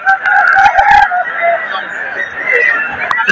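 Chickens at a crowded poultry market crow and cluck loudly and close by, with people talking in the background.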